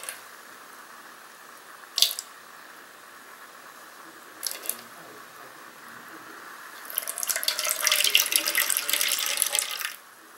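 Fruit yeast water for pizza dough is poured, with a few brief splashes early on, then a steady, nearby trickling pour for about three seconds.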